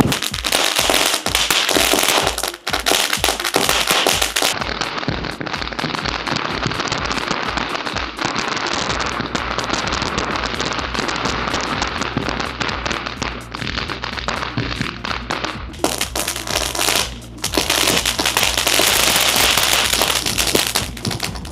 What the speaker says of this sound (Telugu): చిన్న బాంబే కానీ మస్తు సేపు వచ్చిందిరా బాంబు.